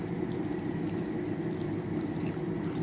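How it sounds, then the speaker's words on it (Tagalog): A little water pours into a thick cooking sauce in a pan, giving a steady, close splashing and gurgling pour that continues evenly throughout, with no talk. "lagay ako ng konting tubig kasi medyo malapot."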